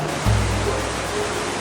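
Roaring waterfall on a river beside a hiking trail, a dense continuous rush of falling water that swells in after a brief low thump at the start.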